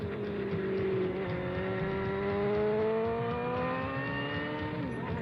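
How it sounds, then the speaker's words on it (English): A motorcycle with a sidecar drones loudly and continuously on an industrial highway, its pitch slowly rising and falling as it cruises along, with road noise underneath. "We got a motorcycle with a sidecar."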